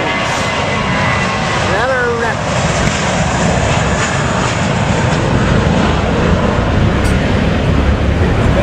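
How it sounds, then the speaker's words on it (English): A British Airways airliner takes off at Madeira airport, heard as a steady, loud, broadband engine roar from the viewing deck that holds throughout, with a brief whistling tone early and people talking over it. "there's one taking off now. British Airways."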